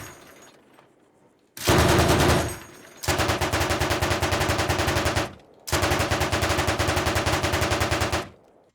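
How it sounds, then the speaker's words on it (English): A BTR-70's medium machine gun in the Arma Reforger video game fires three long sustained bursts of rapid, loud, evenly spaced shots, separated by short pauses. "the BTR has a smaller machine gun with kind of a medium-sized machine gun"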